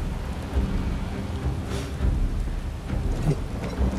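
Heavy rain pours in Final Fantasy VII Rebirth while thunder rumbles low and close in repeated rolling swells, a dense, loud storm bed with no speech.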